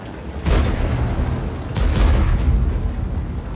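A T-44 tank in World of Tanks fires its cannon and the shell ricochets off enemy armor: two heavy booming thuds about a second apart, close and loud, with rumbling noise between and after.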